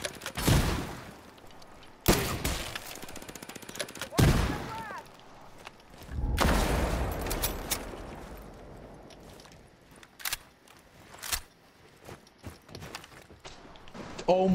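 Gunfire in the tactical shooter game Rainbow Six Siege, sharp shots bursting out in scattered clusters across a match, with louder reports up close and fainter ones between, mixed with game ambience and intermittent talk.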